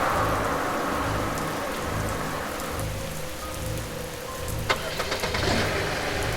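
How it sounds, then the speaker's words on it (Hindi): Steady, heavy rain pours down in a continuous roar, with a low rumble underneath and a few sharper drips or knocks near the end. "बाहर सिर्फ बारिश की आवाज और हवा की ध्वनि थी।"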